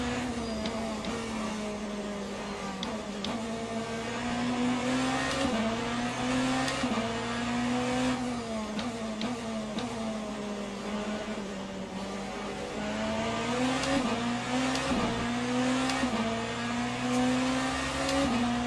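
BMW hypercar in the Le Mans Ultimate racing game at Imola, its engine droning and rising and falling through gear changes on cold tires, a steady loud mechanical tone with brief shift breaks, no voices.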